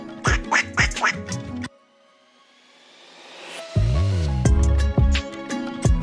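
A duck quacks in a quick run of loud, close calls. A quieter gap follows, then a sustained burst of quacking and honking sounds.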